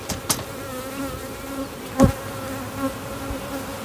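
Honey bees buzz steadily close by, with a few louder buzzes as individual bees pass near, plus some light handling noises.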